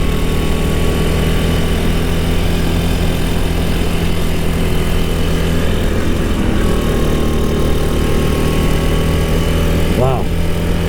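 Go-kart engine at a karting club in Lahore, a loud continuous buzzing drone at close range that holds steady through the laps, with wind noise over it.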